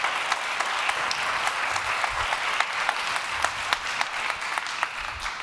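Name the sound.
audience applause after a keynote talk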